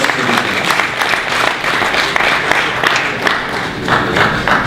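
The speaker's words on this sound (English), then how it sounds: "please join me in extending a round of applause to you." Audience at an insurance forum applauding, steady full-room clapping that holds at an even level throughout, with no talk over it.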